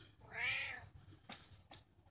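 A Siamese cat gives one clear, drawn-out meow, quiet and fairly close, followed by a couple of faint soft clicks or rustles.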